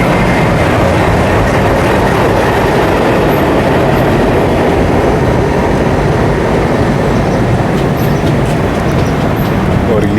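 Train hauled by a WDC 3 diesel locomotive arriving at Lucknow, a loud, steady rumble and rattle of rolling wagons that fills the whole stretch without letup.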